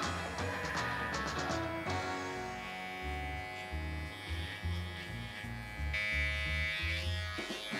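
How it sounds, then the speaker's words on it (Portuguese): Electric hair clippers cutting a clipper-over-comb taper fade, buzzing close in short repeated bursts as the blade moves through the hair, with no talk. "eu vou fazer um breve fade aqui, também usando a técnica de clipper overcomb."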